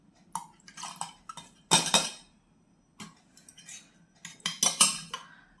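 Metal utensils clink and clatter in short, sharp bursts while hot homemade ghee mixed with Bhimseni camphor is poured into a wick mould, with quiet pauses between the clusters of clinks.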